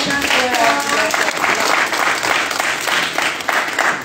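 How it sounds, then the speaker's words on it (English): An audience at a graduation ceremony applauds in a dense, loud, continuous wash of clapping that holds steady throughout, with voices mixed into the crowd. "Let's give Think Outside the Block a round of applause."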